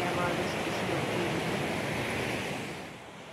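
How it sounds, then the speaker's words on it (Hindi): Waterfall water at a cascade in Italy roars as a loud, steady broadband rush that eases slightly near the end. "देखा पानी कैसे हल्का हल्का नहीं, बहुत ज़्यादा शोर कर रहा है"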